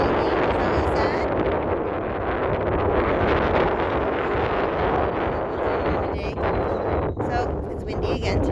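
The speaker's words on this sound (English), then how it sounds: "So it's windy again today." Steady, loud wind roars across the microphone on a farm throughout, a dense rushing buffet with no letup; a few faint higher sounds surface near the end.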